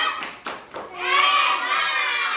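A fifth-grade class clapping for a group of classmates, quick bursts of hand claps that give way to a loud, sustained chorus of children's voices chanting and cheering.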